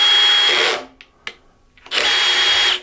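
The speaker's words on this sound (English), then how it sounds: "So when you push it in and out, you want to hear it make that little ratchet sound." A power drill drives screws into rack-mount gear in two loud, sustained whirring bursts separated by a quiet gap with a few faint clicks from the clutch ratchet.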